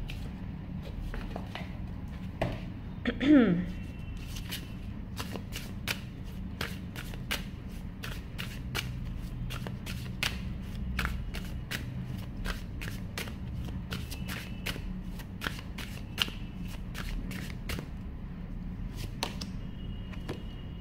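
Tarot cards shuffled by hand in a quiet room, a long run of quick, crisp riffling taps and flicks repeating steadily throughout, close and fairly soft, with a brief louder card rustle near the start and no talking.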